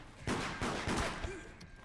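Gunshots in the horror game Deceit: a quick run of about four sharp shots fired in under two seconds, fairly close and moderately loud, over a low background rumble.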